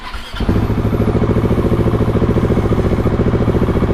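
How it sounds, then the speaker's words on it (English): A KTM 701 motorcycle engine with a freshly repaired clutch catches and runs, then holds a loud, close, steady pulsing thrum as the bike is put into first gear, with no voices. "we're gonna make sure that when I kick it into first gear, the clutch is actually holding"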